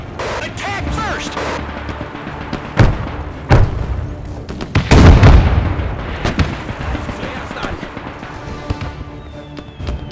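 Loud, close battle noise from Men of War II with American forces: scattered gunshots and heavy artillery thumps and booms landing at irregular intervals, one big blast near the middle, with brief unit voice callouts in between.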